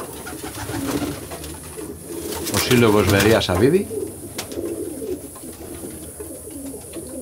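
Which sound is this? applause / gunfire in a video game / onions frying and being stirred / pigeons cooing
pigeons cooing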